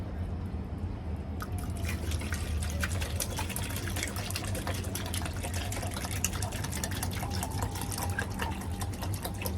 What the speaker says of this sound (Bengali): এখন আবার পানি ভরতে হবে।